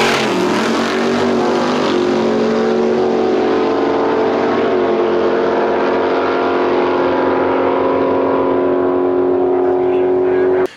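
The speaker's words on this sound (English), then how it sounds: "It's a Jeep Cherokee." A 1990s boxy Jeep Cherokee built for wheelies and off-roading roars loudly as it accelerates, its engine note climbing steadily and holding strong before cutting off abruptly at the end.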